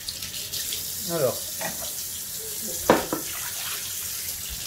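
Eggs are rinsed under a running kitchen tap, giving a steady stream of water with splashy bursts as hands move the eggs, and a brief spoken word is heard over it.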